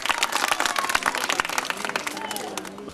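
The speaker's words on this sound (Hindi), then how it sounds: "जोरदार तालियों से स्वागत करेंगे।" Crowd applause greeting the speaker of a legislative assembly at a public gathering in Shamli, a dense burst of clapping that fades over a few seconds, with some voices underneath.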